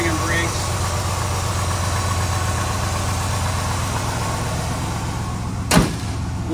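A 1957 Chevrolet Bel Air convertible with a 350 small-block V8, aluminum intake and Holley carburetor idles steadily and close by, a low even rumble, with a brief sharp knock or door-like thump near the end.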